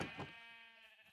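A single sheep in Minecraft gives one short, quavering bleat, faint and alone.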